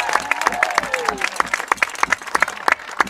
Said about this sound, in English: Please join me in a round of applause for Tyler Wills.